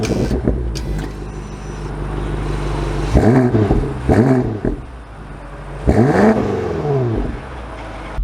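A 2024 BMW X6 M Competition pulls away and accelerates, its engine rising through several distinct revving sweeps with pauses between shifts, loud and close from inside or beside the car.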